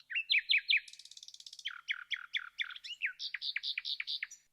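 Nightingale singing from a branch, a lively run of repeated bright chirps and whistled phrases in quick rhythmic bursts, clear and fairly close with no other sounds.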